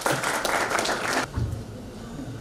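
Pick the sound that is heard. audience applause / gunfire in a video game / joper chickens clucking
audience applause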